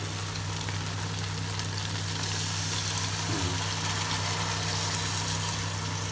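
Water poured into a hot pan while cooking a home dinner, giving a steady, loud sizzle and frying hiss that runs unbroken throughout, with a low hum beneath.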